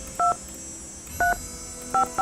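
Telephone keypad dialing tones in the Nancy Drew: Ghost Dogs of Moon Lake game: four short, clear two-tone beeps, three spaced about a second apart and a final one following quickly, over a quiet background hum.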